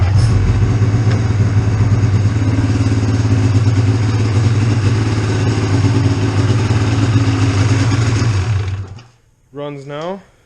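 A Polaris Dragon 136 snowmobile engine, recently welded and reassembled, runs at a steady loud idle with a constant droning hum, then cuts off, and a brief whine follows in the quiet.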